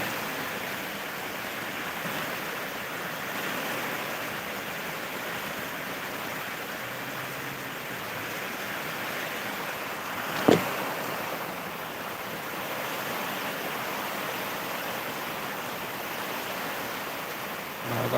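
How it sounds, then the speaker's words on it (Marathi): Heavy monsoon rain pours down outside a house in a village, a broad steady hiss of downpour with one brief sharp knock midway and no talking. "खूपच जोराचा पाऊस चालू आहे तुम्ही बघू शकता बाहेर"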